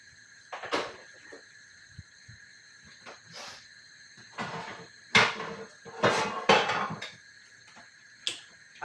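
Metal pots and pans clank and clatter in short, irregular bursts in a home kitchen while cooking spaghetti bolognese, close by, with quiet gaps between the knocks.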